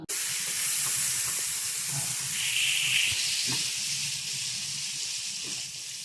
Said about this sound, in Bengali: এবার ভাজবো এটাকে, এই দিলে আলু